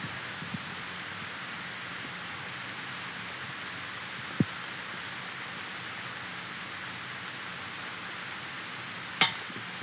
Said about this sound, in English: And it is starting to rain.